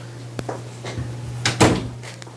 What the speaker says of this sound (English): I'm going to have to close the door.